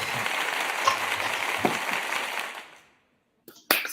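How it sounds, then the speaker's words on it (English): A crowd claps steadily, then the applause fades out into silence before a few brief knocks and noises at the end. "So we are giving you this round of applause all the way from Big Talent once again."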